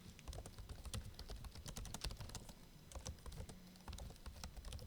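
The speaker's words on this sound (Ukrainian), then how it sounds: "Ось так звучить тайпінг на цій клавіатурі." Fingers type on the keyboard of an Acer Nitro V 15 ANV15-41 gaming laptop, producing quick, soft, close clicks in an uneven run of keystrokes with no voices.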